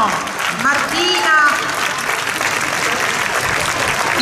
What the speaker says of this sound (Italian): Un grossissimo applauso, Martina Martino